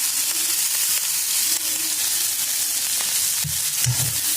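Chopped chigal greens fry in a pan with a pinch of turmeric, giving a steady hiss and sizzle with a few soft stirring knocks near the end.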